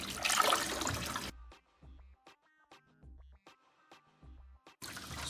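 Goat meat being washed with water by hand for a Jamaican brown stew: splashing and sloshing bursts at the start and end, with quieter scraping and handling in between.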